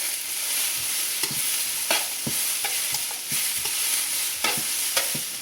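Bell peppers stir-frying in a hot oiled pan with other vegetables for a chicken stir-fry, a steady close sizzle broken by repeated scraping and clacking of a utensil stirring them.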